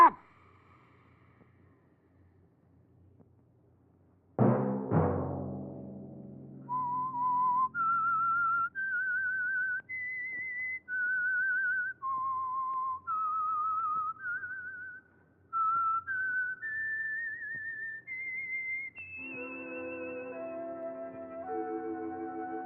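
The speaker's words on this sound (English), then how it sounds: "Let that whistle be your signal for the Signal Oil program, The Whistler" A solo whistled radio theme for a Signal Oil-sponsored mystery program, a slow eerie melody of sustained notes stepping up and down, clear and close, following a plucked chord and ending over soft orchestral backing.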